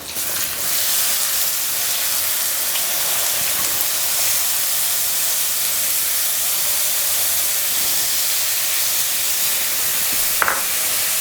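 Chopped onion hitting a hot pan for a stuffed bitter gourd dish, giving a loud, steady, unbroken hiss of sizzling oil throughout with no pauses.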